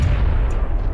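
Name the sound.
thrown grenade exploding in video game PUBG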